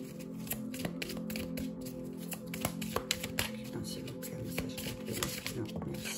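Oracle cards shuffled by hand in a rapid run of papery flicks and riffles, close and steady, with soft talk in French over parts of it.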